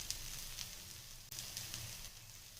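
Besan bread cooking directly on a tawa for breakfast gives a soft, faint, even sizzle with a few light crackles, and no talk over it.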